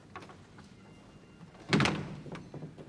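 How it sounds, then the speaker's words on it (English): A door is pushed shut with a single solid thunk, close and fairly loud, followed by a brief rattle as it settles in a quiet room. "Close the door, please."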